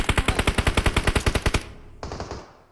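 Rapid automatic gunfire in the video game BGMI, aimed into smoke: a close burst of about fifteen evenly spaced shots, followed by a brief pause and a fading echo.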